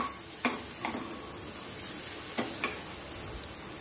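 Raw banana pieces fry in a pan for a curry, giving a steady soft sizzle with a few sharp clicks and taps scattered through, like a spoon knocking the pan, with no talking.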